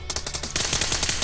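Rapid automatic gunfire in the PUBG Mobile shooter game, a close, loud burst of repeated shots that grows denser and heavier halfway through.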